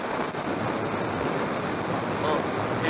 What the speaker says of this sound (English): I'm getting a fair bit of wind in a minute.